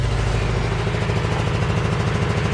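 A 1991 Toyota four-wheel-drive engine idles on a cold start, a steady close rumble with an even pulsing rhythm throughout.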